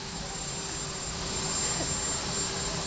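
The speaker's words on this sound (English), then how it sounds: "We're going to be with you until this plane pulls in." Steady jet engine roar from the papal plane landing in Queens fills the background with a constant, even drone and a faint high whine on top; no distinct change in pitch or level over the short stretch.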